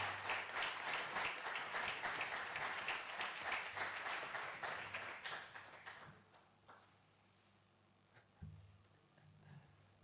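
A warm round of audience applause greeting a speaker at a live-streamed talk, dense clapping for about six seconds that fades to scattered claps and quiet room noise.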